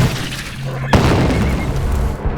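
Cannon fire in a film battle scene: one sudden loud boom cracks out partway through, following a shouted command, then rumbles and fades under a steady background wash.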